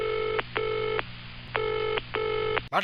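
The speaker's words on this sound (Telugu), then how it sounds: "కమలాసన్ గారు ఫోన్ చేద్దాం" An outgoing telephone call rings on the line: four clean electronic ringback tones in two pairs, each about half a second, sounding clear and close with a faint hum beneath and no speech.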